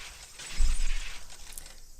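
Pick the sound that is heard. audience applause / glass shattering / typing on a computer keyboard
glass shattering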